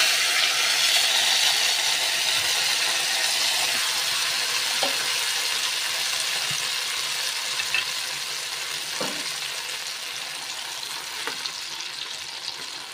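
Tempering is added to sweet sakkarai pongal with raisins and stirred in, giving a soft sizzling hiss with scattered scrapes and clinks of the spoon against the pot, gradually quieting.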